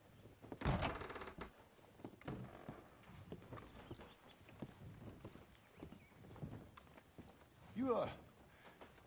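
Horse hooves clip-clop in Red Dead Redemption 2, a series of uneven thuds and steps with a whinny near the end, faint and mixed with other game sounds.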